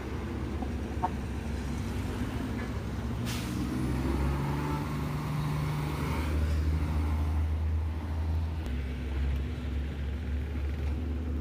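Heavy road traffic of container vans and large trucks rumbles past on a damaged road in Meycauayan, Bulacan, a continuous low engine drone with a brief hissing burst like an air brake, nearby and without talk.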